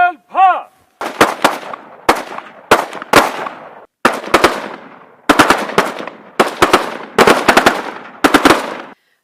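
BSF soldiers firing guns at a shooting range, with loud, close, rapid volleys of gunshots in repeated bursts, each followed by a short echo tail. A brief whistle-like tone comes first.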